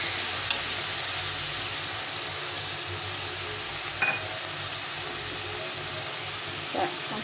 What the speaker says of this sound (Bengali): এখন আমি মাংসটাকে ঢেলে দেবো, দিয়ে মাংসটাকে একটু কষিয়ে নেব